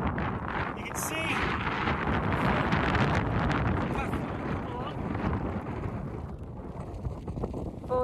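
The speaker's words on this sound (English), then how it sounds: "It's very windy, so I hope you can hear us." Strong gusting wind on the summit of Great Dodd buffets the microphone in a loud, continuous roar, while a voice speaks briefly and is partly drowned out.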